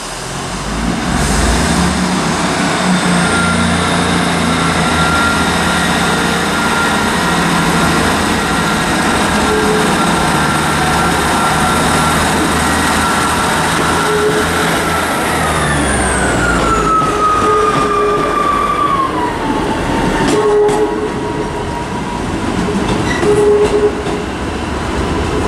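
A Northern passenger train at Carlisle station on the West Coast Main Line, loud and close as its engine and electric whine build, hold, then fall away as it pulls out, with track clatter near the end.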